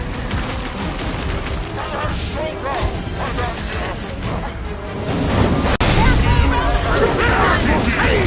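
Heavy sustained gunfire from Rocket during a Guardians of the Galaxy video game battle, dense loud blasts and crashes rolling continuously with voices talking over the chaos.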